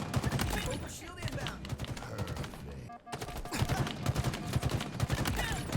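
Rapid bursts of battle rifle fire in Halo Infinite against Spartan-level bots, sharp repeated shots layered over busy game sound and music, with a brief dip midway before firing resumes.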